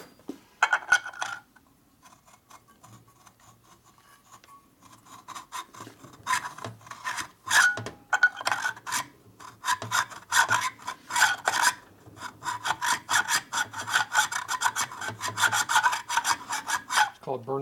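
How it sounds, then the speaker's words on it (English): Hand burnishing of a rough reamed hole in a 1972 Harley-Davidson Sportster XLCH Ironhead engine case. Repeated rasping, rubbing strokes start sparse, then become a dense, steady back-and-forth scraping close up, with no talking. "Called burnishing a hole in, because this is rough as a cob, and reamers leave marks on there."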